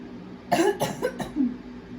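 A few quick coughs in a row, close and fairly soft, with a quiet pause and a faint hum underneath; no one speaks.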